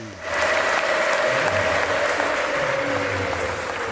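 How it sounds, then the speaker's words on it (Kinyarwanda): A church congregation claps together in thanksgiving to God, a dense, steady wash of applause that swells in at the start and holds loud and even throughout, with a faint sustained tone running beneath it. "duha amashyi menshi Imana."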